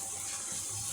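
An electric one-litre kettle heating water in a home kitchen: a steady, hissing whoosh in the background at a constant level, with no talking.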